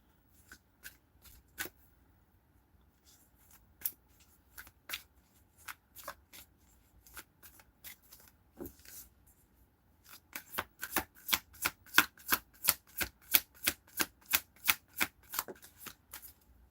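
Tarot cards are shuffled by hand: scattered crisp flicks at first, then a fast, steady run of riffling snaps, close and fairly quiet.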